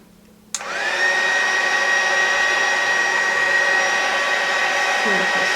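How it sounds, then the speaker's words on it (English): A craft heat tool blows steadily to dry paint on an art project, switching on abruptly with a whoosh and holding a loud, even, whining airflow close by, alone without voices. "I'm going to use the heat tool"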